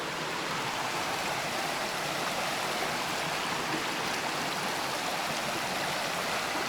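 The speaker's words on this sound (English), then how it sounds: "it's a nice river here in the valley" A river runs through a rainforest valley in Springbrook National Park, giving a steady, broadband rush of flowing water that stays close and even throughout with no voices.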